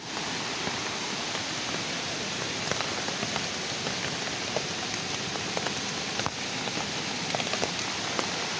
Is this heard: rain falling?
yes